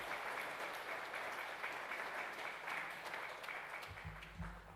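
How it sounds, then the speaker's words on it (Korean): Church congregation clapping to welcome a visiting missionary at a Sunday worship service, steady moderate applause that fades as a low voice comes in at the end. "우리 힘차게 박수로 우리 환영하면서"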